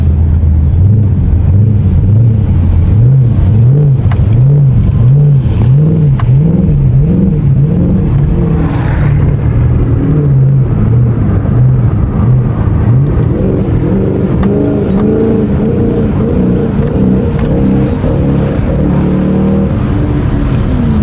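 A Chrysler 300's engine with a cold air intake is blipped repeatedly in a quick pulsing rhythm, then holds a loud sustained rev, up close and without talk.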